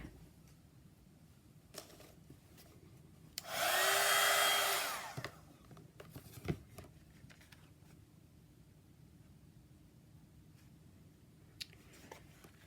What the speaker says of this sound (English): I think I'll give them a dry with a heat gun